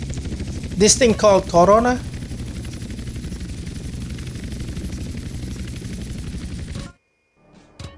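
Steady rotor drone of a helicopter in GTA San Andreas Definitive Edition holds throughout, with a player speaking briefly near the start before the engine sound cuts off abruptly.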